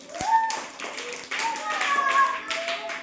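First-grade children clap their hands in a school classroom, a short burst of applause mixed with an adult speaking over it.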